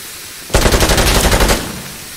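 Automatic gunfire in the shooter game Insurgency Sandstorm: a single loud, close burst of rapid shots lasting about a second, standing out sharply from a quiet background.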